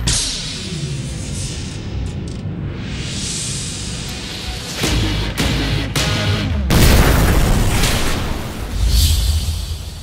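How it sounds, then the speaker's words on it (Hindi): Loud bomb blasts and bursts of gunfire in a Bhojpuri action film, rolling booms with sharp cracks and whooshes layered over a continuous dramatic soundtrack. "बम ऐसे फोड़ रहे हो जैसे दिवाली के पटाखे"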